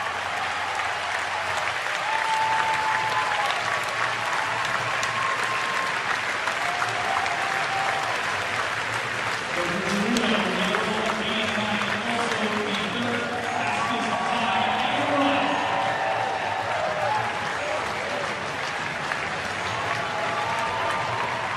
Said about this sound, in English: Great reaction from the crowd here at Hayward Field.